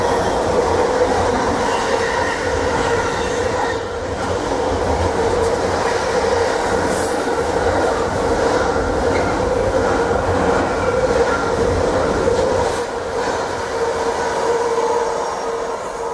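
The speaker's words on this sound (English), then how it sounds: "sounds like we've got a Class 86 about to charge Needham Market Station at speed" A Class 86 electric locomotive hauls a container train through Needham Market Station at speed, a loud, sustained rushing roar with rhythmic wheel clatter and faint squeal, close and continuous throughout.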